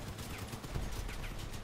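Distant gunfire in the vehicle combat game Crossout, a dense rattling fusillade of rapid shots under a constant low engine-like rumble, fairly faint throughout.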